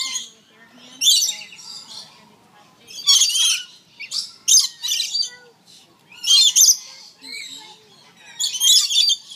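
Birds at a feeder give bursts of sharp squawks and chirps in repeated close clusters against a quiet background, with a faint voice murmuring in the gaps.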